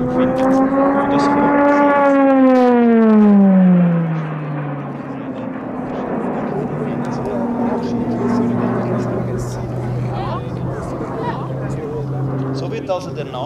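A Swiss Air Force Pilatus PC-21 turboprop aircraft passes during a flying display, with a rising then falling whine as it flies by, followed by a steady engine drone while someone talks over it.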